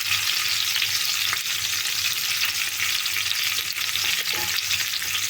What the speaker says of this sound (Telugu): నూనె కాగింది కదండి, ఉల్లిపాయలు వేసుకున్నాం.